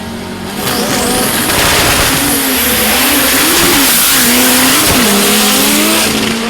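A VW drag racing car's engine roars and revs hard as it accelerates away down the strip, loud and continuous for several seconds, with a high-pitched whine rising over it.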